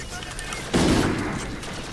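A KBS Longbow rifle fires in Call of Duty: Infinite Warfare, one sharp loud report with a short booming tail over low game ambience.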